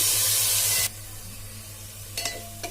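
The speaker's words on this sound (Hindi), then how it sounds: "अब प्याज को हम थोड़ा गहरा सुनहरा भूनेंगे, मीडियम लो पे इसको गहरा सुनहरा भूनना है।" Onions for Sindhi pulao fry over medium-low heat, starting with a loud, bright sizzle that suddenly drops to a quieter simmer, with a couple of brief stirring scrapes toward the end.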